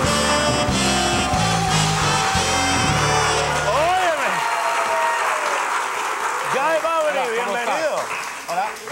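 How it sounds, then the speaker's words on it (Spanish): Audience applause and cheering in a TV studio as mentalist Guy Bavli is welcomed, loud and sustained from a large crowd. Band music plays at first, then voices shout and whoop over the clapping. "Reciban con un fuerte aplauso a Guy Bubley"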